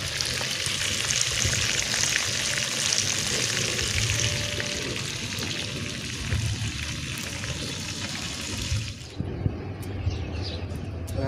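Chicken drumsticks frying in fish sauce sizzle and crackle steadily in a hot pan over a wood stove, a loud continuous fry that cuts off abruptly near the end.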